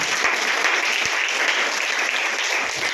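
Congregation clapping during a Hindi-language church prayer service, a dense, steady wash of many hands throughout, close and full, with no speech over it.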